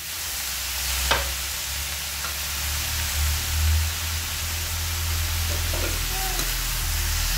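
Boiled raw jackfruit and onions fry in a pan over a low flame, giving a steady close sizzling hiss with occasional scraping stirs and soft knocks.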